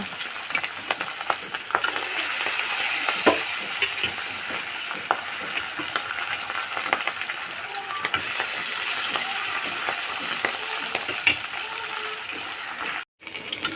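Steady, close sizzling of Ari fish frying in hot oil, with a constant hiss and scattered crackles throughout.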